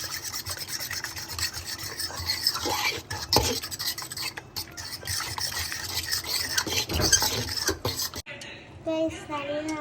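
Chicken marinade with egg and garlic-ginger paste being stirred and rubbed in a bowl, a steady wet scraping and rasping that runs nearly throughout, close and moderately loud, before dropping away near the end as faint background sounds take over.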